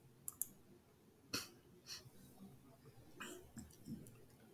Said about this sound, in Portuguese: eu vou clicar aqui em criar